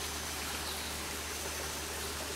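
Steady broadband rush of a creek flowing in Huli country, an even wash of water noise throughout with no voices.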